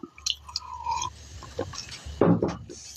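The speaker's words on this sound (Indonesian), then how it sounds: "aduh ntar bro seruput dulu kopinya" A sip of coffee is slurped up close, a short wet burst near the end that follows soft mouth and drink noises in a quiet room.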